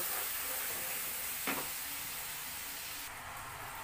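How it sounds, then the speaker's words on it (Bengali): Spice paste with whipped sour yogurt sizzles and fries steadily in a pan, a continuous close hiss with a brief stirring scrape in the middle and no talking. "আমি মশলাটাকে আরও ভালোভাবে কষে নেব"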